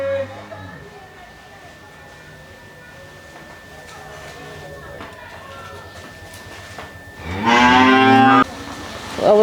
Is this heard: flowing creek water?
no